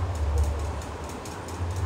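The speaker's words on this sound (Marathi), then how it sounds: "हे पहा, आम्ही मेट्रो ट्रेनने निघालेलो आहोत इस्कॉन मंदिरला." A low, steady rumble and hum of a Mumbai metro train in motion, heard from inside the carriage, with faint muffled background noise.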